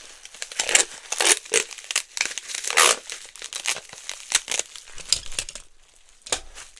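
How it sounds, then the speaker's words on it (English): Bubble wrap crinkles and rustles as a small eyeliner is wrapped in a single square for shipping, with irregular close crumpling bursts and a short tape pull near the end. "I'm just wrapping it in 1 square of bubble wrap. And then I'm going to tape this."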